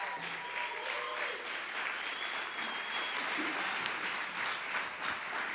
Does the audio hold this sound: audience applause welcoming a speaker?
yes